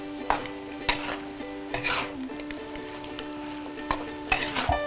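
Minced beef fries in a pan while being stirred, a steady sizzle broken by sharp scraping strokes of a utensil against the pan at irregular intervals, close and clear, with no voices.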